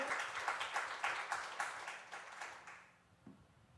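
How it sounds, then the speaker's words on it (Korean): A church congregation at a Friday worship service gives a full, steady round of applause that tapers off over about three seconds into near quiet. "우리 하나님께 영광의 박수 올려드리겠습니다."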